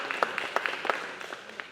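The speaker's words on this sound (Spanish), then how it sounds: "Let's give a big applause" Scattered clapping from a church congregation during a pastor's bilingual session, a handful of distinct claps with crowd murmur and a few voices underneath, fairly soft and thinning out.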